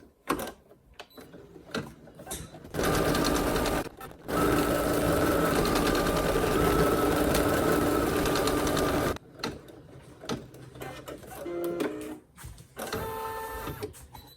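An embroidery machine stitching a center line and then the outer edge of an in-the-hoop needle minder appliqué: loud, fast mechanical whirring runs in two long stretches separated by a brief pause, then gives way to scattered clicks and shorter bursts.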